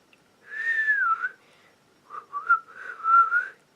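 Someone whistles a short tune nearby: a sliding phrase, a brief pause, then a few quicker wavering notes.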